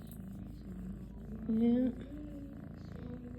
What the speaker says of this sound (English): I hear that purr machine.